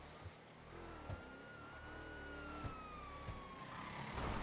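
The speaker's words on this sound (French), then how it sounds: "Sirène." A police siren from a video game wails in a long rising and falling tone over a running car engine, faint and steady, with a few soft knocks.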